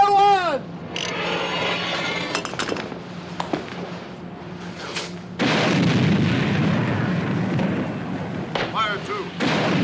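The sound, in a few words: weapon firing and explosion in WW2 film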